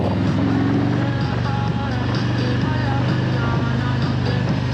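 Harley-Davidson motorcycle cruising on the road toward Easton in the Poconos, a loud, steady engine drone with wind rush filling the whole stretch, close up and continuous.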